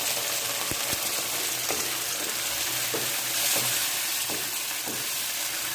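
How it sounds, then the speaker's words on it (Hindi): Masala-coated chicken and onions frying in a pan give off a steady, loud sizzle throughout, with occasional sharp clicks of a spoon stirring through the mix, close up and without any voices. "अब इसको इस प्याज में मिक्स कर लें"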